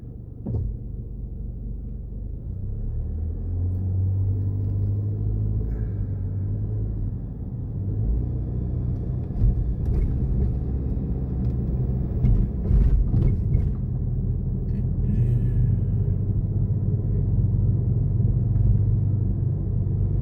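A car drives along a road in Tasmania toward a port, giving a steady low engine and road rumble that stays fairly loud and even throughout, with no talk.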